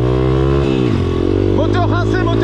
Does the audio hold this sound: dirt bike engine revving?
yes